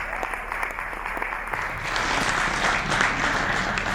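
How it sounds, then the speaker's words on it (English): Comedy show audience clapping for a performer at an Efe Warri BoyClip stand-up event, a steady crowd applause that swells louder midway and carries on alone without talk. "Please clap for M.O.P."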